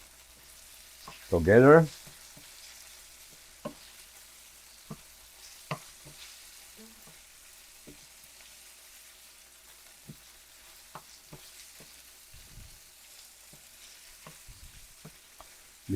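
Chicken with pickles and hot pepper frying in a pan, a sharp burst of sizzling near the start as ingredients hit the hot pan, then quiet faint crackles and occasional clinks with a brief spoken word.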